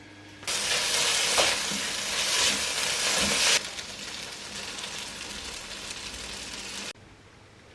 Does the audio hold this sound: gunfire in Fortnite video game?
no